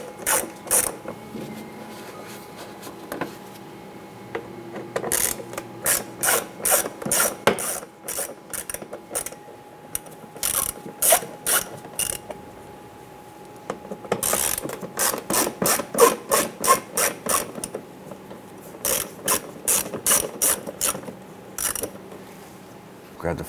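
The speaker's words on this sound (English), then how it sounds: "There are 4 T20 torque screws, 1, 2, 3, and there's one on the bottom here. Loosen and remove these." A ratchet loosens T20 Torx screws holding the mud flap on a 2008-2013 Nissan Rogue, with bursts of rapid clicking pawl ratcheting separated by short pauses, close and fairly loud.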